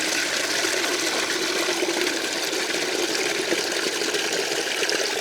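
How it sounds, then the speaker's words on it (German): Water runs steadily into a bucket as a constant, even rush of flow, fairly close, with no talking over it. "etwas Wasser in den Eimer laufen lassen."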